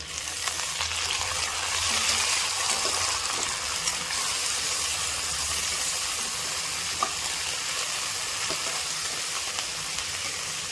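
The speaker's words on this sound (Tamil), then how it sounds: "புதினாவும் கொத்தமல்லியும் போட்டு நல்லா வதக்கிடுங்க." Mint and coriander leaves sautéing in a pan for vegetable rice, a loud, steady close-up sizzle and hiss with occasional soft stirring scrapes, no voices.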